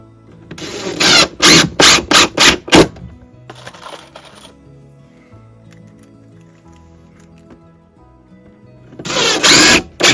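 A power drill drives screws into a wall inside an off-grid tiny house, giving several short close bursts of whirring, a quieter pause, then one longer loud run near the end.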